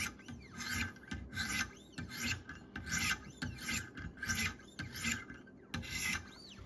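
A knife blade rubbed against a sharpening stone to raise a burr, about a dozen rhythmic rasping strokes back and forth, close and clear, with no talk.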